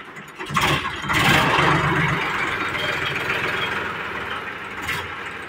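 An old tractor engine cranks over and catches, then settles into a steady, rough idle, close and fairly loud, with no talking.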